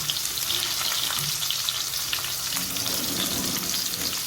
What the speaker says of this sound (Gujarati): આપણે સરસ તેલ થઈ જાય એટલે ડુંગળી અને ટામેટાં નાખી દઈએ.